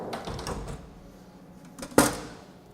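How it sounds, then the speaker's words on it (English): The enclosure doors of a Haas CNC mill slide shut, with a few soft rattling scrapes followed by a single sharp metallic clunk as they close, close to the microphone. "So you do have to close the doors."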